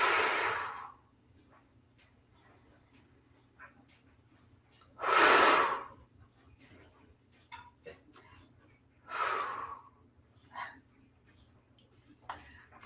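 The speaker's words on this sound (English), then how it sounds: "Taking a few deep belly breaths." Deep belly breathing, with slow, full breaths that come in loud, airy swells spaced a few seconds apart and quiet pauses between them. A faint ticking runs underneath.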